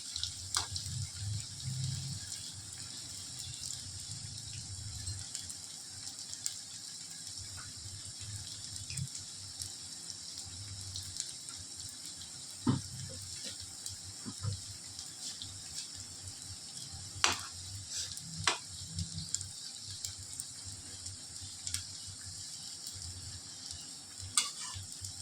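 Onion fritters (ulli vada) fry in oil with a soft, steady sizzle, broken by occasional stirring clinks and scrapes, faint and close, with no talking.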